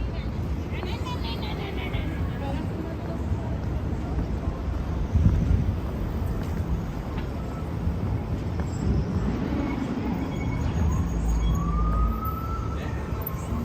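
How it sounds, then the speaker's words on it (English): A far-off emergency vehicle siren wails faintly through the evening street noise of Manhattan, New York City, rising and falling under steady traffic rumble. "Oops, emergency siren far away."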